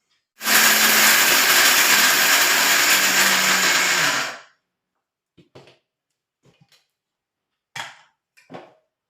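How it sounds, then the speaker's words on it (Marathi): An electric mixer grinder whirs loudly for about four seconds while grinding ingredients for fenugreek and edible-gum laddoos, then stops abruptly, followed by a few light knocks and clatters of the jar and lid. "मी आता हे मिक्सरला ग्राइंड करते"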